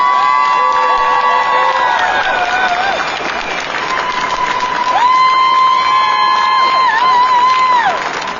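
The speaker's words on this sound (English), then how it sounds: "So if we could please give a round of applause to Santiago Cortez." An audience at a rally for recovery applauds and cheers, steady clapping from a crowd with high whoops and whistles rising above it throughout.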